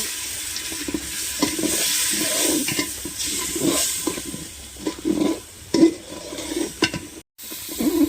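A wet paste of turmeric and chilli powder with water fries in a pan for khichuri, making a loud, bubbling sizzle with repeated rhythmic stirring scrapes, a brief cut-out near the end, and no speech.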